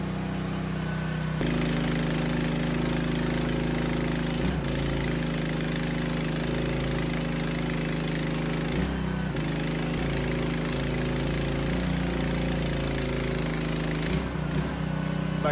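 A PK160A inverter welder burns a welding rod, giving off a harsh steady buzzing crackle that runs almost unbroken, loud and close, with a few short pauses and a constant mechanical drone beneath.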